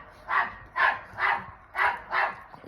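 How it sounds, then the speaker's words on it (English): Dogs bark excitedly at the neighbour's dogs in five loud, evenly spaced barks, close by with no talking. "next door have let their dogs out, which means my dogs just go insane."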